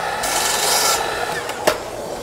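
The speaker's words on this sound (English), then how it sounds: "we're gonna cut it down into a more manageable size." A long wooden dowel being cut down to a shorter length, a close, loud rasping saw stroke for about a second, then quieter scraping and a single sharp knock near the end.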